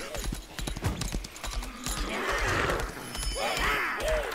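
Horse hooves clopping at a riding pace in Lost Ark, rhythmic close hoofbeats with a whinny near the end, game ambience and someone talking over it.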